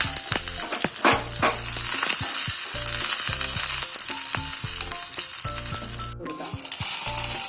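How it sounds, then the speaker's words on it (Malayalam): Mustard seeds, dried red chillies and curry leaves crackle and sizzle loudly in hot oil for a cucumber pachadi tempering, a continuous close hiss with popping and occasional scraping of a stirring spoon. "1/4 ടീസ്പൂൺ കടുക് ഇട്ട് കൊടുക്കാം. വറ്റൽമുളക് ഇട്ട് കൊടുക്കാം. കറിവേപ്പില ഇട്ട് കൊടുക്കാം."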